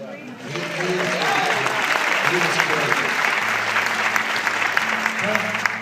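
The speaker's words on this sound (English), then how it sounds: "Or didn't he have big applause?" Audience applause at a talk about a song, steady clapping throughout the clip under a voice speaking briefly.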